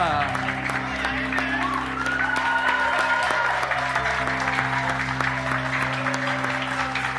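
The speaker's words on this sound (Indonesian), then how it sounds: "mari tepuk tangan, inilah Mike dan Tasya" Guests applauding the newly wed couple during a church wedding ceremony, a continuous patter of clapping over a steady low hum, with voices talking and a faint tonal line drifting through the middle.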